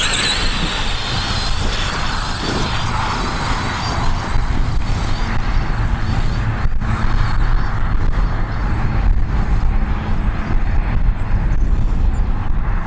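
An ARRMA Granite 4x4 mega monster truck on a 2S LiPo is driven over rough terrain, giving a steady, loud electric motor whine mixed with broadband tire and chassis rumble throughout, with no talking.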